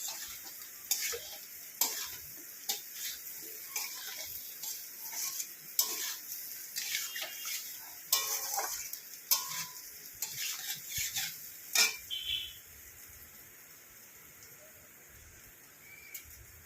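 Onions for egg curry are stirred in a pan, giving a steady sizzle and a crackling, rain-like hiss with repeated scrapes and ticks of a utensil, close and continuous with no talk.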